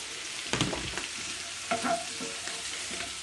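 Carrot, green beans and green pepper fry in oil with a soft, continuous sizzle, broken by a few brief scraping stirs.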